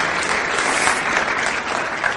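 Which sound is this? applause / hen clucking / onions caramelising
applause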